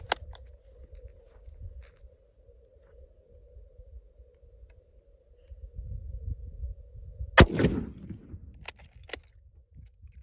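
A rifle fires Israeli surplus 8mm ammunition at an outdoor range, one sharp, loud, close report with a brief echoing tail, then quiet.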